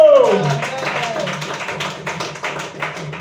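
A church congregation claps together, with a brief voice at the start, a dense run of overlapping hand claps that stays fairly even and slowly thins out.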